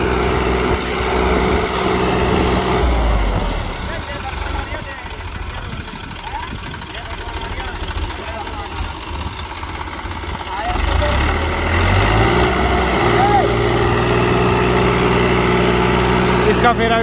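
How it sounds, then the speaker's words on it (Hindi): A loud tractor diesel engine rumbles nearby, easing off briefly in the middle before the heavy drone returns, with a person talking over it. "और ये देखो आप ट्रैक्टर का परफॉर्मेंस भाइयों।"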